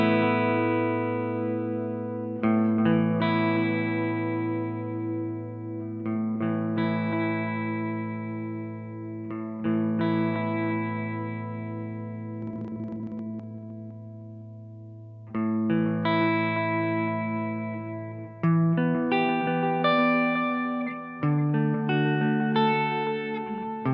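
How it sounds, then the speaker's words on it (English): A DemonFX reverb and delay workstation's analog delay setting on a guitar, with modulation applied only to the repeats: sustained distorted chords ring out with wavering, chorus-like echoes, changing every few seconds over about 24 seconds, no talking. "For the analog delay, the morph controls the modulation on just a delayed signal."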